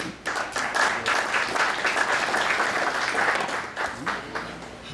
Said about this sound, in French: applaudis les gradués. Très chaudement.